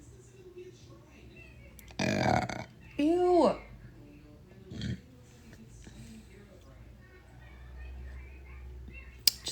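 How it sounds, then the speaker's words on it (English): A person burps loudly a couple of times at close range, one long rumbling belch followed by a shorter one, with casual talk and room noise around it. "Just over here burping up a storm."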